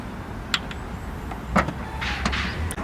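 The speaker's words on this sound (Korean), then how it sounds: "버튼 누르면 전동 테일게이트 닫을 수가 있죠" Power tailgate of a Hyundai Tucson Hybrid N Line closing at the push of a button: a soft electric motor whir with a few light clicks and a brief thud, heard close with no talking.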